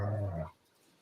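A dog gives a low, brief growl close by, heavy and rumbling for about half a second before fading into quiet room tone.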